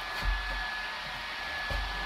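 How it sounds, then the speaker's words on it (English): A household vacuum cleaner running in a kitchen during baking, a steady loud whir throughout with slight swells, no voices. "my vacuum cleaner is going"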